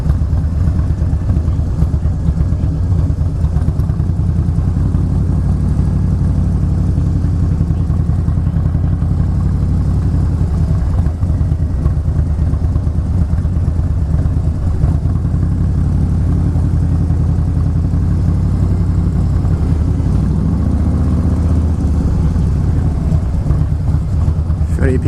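A Harley-Davidson Fat Boy S idles on a quiet narrow residential street, a steady deep low rumble that stays constant and close throughout.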